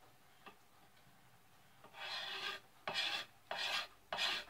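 A knife spine scrapes a store-bought wooden ax handle in four rasping strokes after a faint tick, each stroke a dry, steady scratch up close with brief pauses between.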